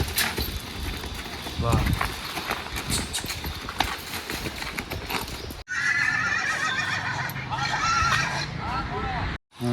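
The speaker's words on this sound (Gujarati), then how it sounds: "આ ઘોડાનું નામ ચંદ્રો છે, ઓરિજિનલ કાઠિયાવાડી હોર્સ છે." An original Kathiyawadi horse at an old royal palace compound neighs loudly, with hooves clopping nearby and a person briefly exclaiming; a second whinny follows after a short break.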